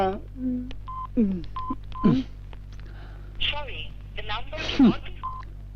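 Several bursts of telephone keypad tones, short steady beeps spaced apart, interleaved with talking voices over a constant low hum.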